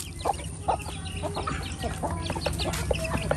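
Rooster and hens clucking in a village farmyard in Java, a run of short repeated clucks and calls close by over a steady rural background, with no talk.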